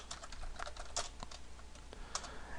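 Steady, quick typing on a computer keyboard while comment text is entered in a Java program produces a close, continuous run of light key clicks with a few sharper strikes and no voices.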